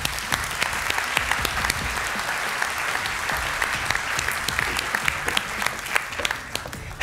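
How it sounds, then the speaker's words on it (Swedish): A live stage-show audience claps in dense, steady applause that holds at an even level throughout, with no voices standing out. "Ge Madeleine en applåd."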